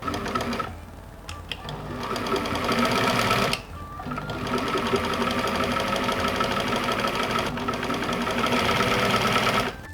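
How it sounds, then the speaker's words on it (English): Sewing machine stitching gauze for a medieval outfit: rapid mechanical rattling runs in bursts, with two brief pauses, close and fairly loud. "I'm gonna start sewing my gauze on first"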